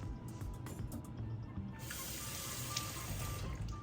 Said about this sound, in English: I'm using warm water. Just rinse this and wash it off a little bit.